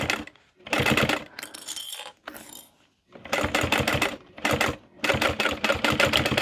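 A sewing machine runs a short back stitch while making a lip gloss holder, with bursts of rapid mechanical stitching broken by brief pauses, close and fairly loud.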